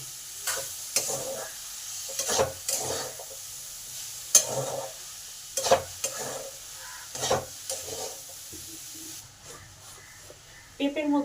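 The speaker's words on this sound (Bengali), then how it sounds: "পেঁপেটাকে আলুর সাথে ভালো করে মিশিয়ে দিই" Grated papaya being stirred into potatoes in a pan for a no-onion, no-garlic papaya ghonto, with intermittent scraping strokes over a soft sizzle and occasional background voice.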